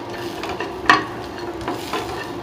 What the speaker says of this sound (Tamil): இந்த மாதிரி நல்லா ஃப்ரை பண்ணிக்கோங்க